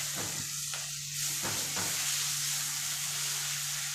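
Onions and tomatoes sautéing in a pan for a chicken gravy, a steady close sizzle with a few stirring scrapes near the start, no talk.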